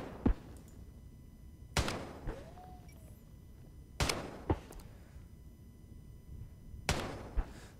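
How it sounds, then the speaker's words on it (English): Gunfire in Escape From Tarkov footage: about seven sharp, separated shots in loose pairs, each a brief crack with a short tail over a quiet background. "They show a bunch of footage of people shooting their guns in slow motion, showing the shells flying."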